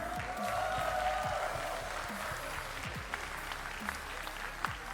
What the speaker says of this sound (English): one more round of applause for our winner, Catburger.